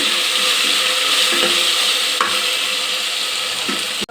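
Mint leaves sizzle and fry in a hot pan, with steady broadband crackle throughout and occasional scrapes of stirring, ending in a sharp clunk.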